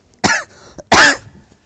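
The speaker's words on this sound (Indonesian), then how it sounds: "Nah, sampai batuk tuh." An audience member coughs twice in a hall during an Islamic religious lecture. The two sharp, loud bursts sit close together, with a short pause and a faint throat sound between them.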